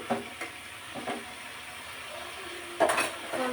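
Beans and tomatoes sauté in a pan, with a soft steady sizzle and a few scraping stirs. A louder clatter of utensil against the pan comes near the end.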